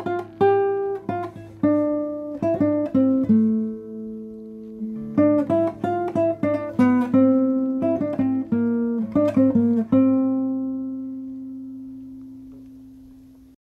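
Acoustic guitar picks out the intro to a song, a clear solo run of plucked notes and ringing chords that ends on a sustained, slowly fading chord.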